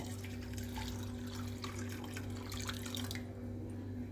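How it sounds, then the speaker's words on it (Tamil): Water pours steadily into soaked lentils in a pressure cooker, a continuous close splashing flow over a low hum that stops abruptly near the end. "சேர்த்து பருப்பு முங்குற அளவுக்கு தண்ணி ஊற்றினா போதும்."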